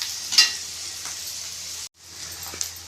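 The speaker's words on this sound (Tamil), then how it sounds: "வெங்காயம் நல்லா வதங்கட்டும்." Onions sauté in a pan for a bitter gourd curry, sizzling and frying steadily up close with light stirring, briefly cutting out before resuming.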